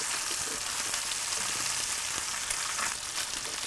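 Garlic frying in a pan until crispy and brown, for sautéed mu fish with orange juice: a loud, close, continuous sizzle and crackle that fills the whole stretch without any talking.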